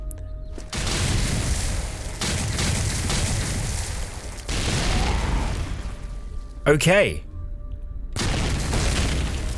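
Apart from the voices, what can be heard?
explosions in the video game Cataclysm: Dark Days Ahead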